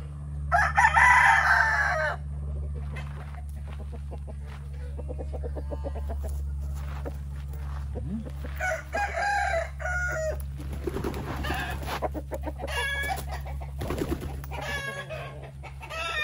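A rooster crows loudly nearby, then hens cluck and squawk off and on over a low steady hum, with another crow breaking in later.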